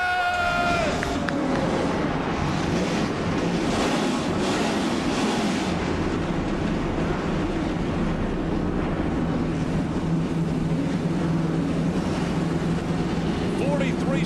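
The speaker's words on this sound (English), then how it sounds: "43 stock cars come to life." Forty-three NASCAR stock car engines start up at Daytona for the 2011 season, a dense, loud, continuous roar of many V8 engines idling and revving together, with a crowd and public address under the noise.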